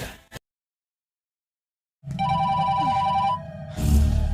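A phone rings loudly with a steady electronic ringtone that starts abruptly after a brief burst of noise and silence, then shifts into a louder, fuller passage near the end.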